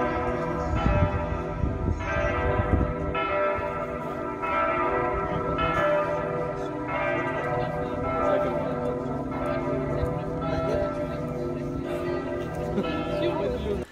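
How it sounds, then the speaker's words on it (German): Bells of the Berlin Cathedral ring steadily and sustained, heard from a rooftop terrace on Museum Island, with someone speaking over the continuous pealing throughout. "Dann gen Norden die Museumsinsel mit ihren fünf Museumsbauten und der Berliner Dom, dessen Glocken gerade zu vernehmen sind."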